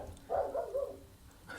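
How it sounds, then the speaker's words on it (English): A single dog gives a short burst of barks at moderate distance, a couple of quick yaps close together, then quiet with faint background noise. "Barking dog."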